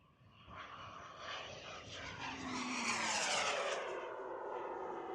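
A radio-controlled model airplane engine at full throttle during night flying at a modelers' fly-in: a high, buzzing propeller whine climbs steadily in pitch and grows louder as the plane passes, heard alone without talk.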